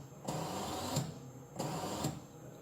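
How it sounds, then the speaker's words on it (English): An FPV quadcopter motor on an Armattan Rooster build spins up in two short whirring bursts, each rising to a brief peak and then cutting off, close and fairly quiet. "let's just see if the motor's going."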